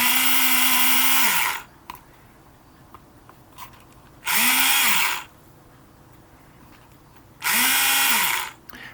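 A small power drill bores out a shaft on a model ship in three bursts of high whining, each spinning up, holding steady and winding down, with quiet pauses between them.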